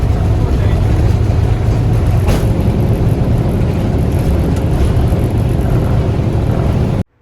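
Loud, sustained roar of aircraft engines during a takeoff roll on a ferry flight from Jeddah, steady and close from inside the plane, with a brief sharper burst partway through.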